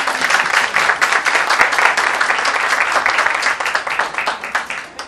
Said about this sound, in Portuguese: Um aplauso para todas